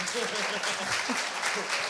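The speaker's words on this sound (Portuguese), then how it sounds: "Gente, eu quero palmas" Steady applause from a crowd fills the whole stretch, dense and continuous clapping at an even level.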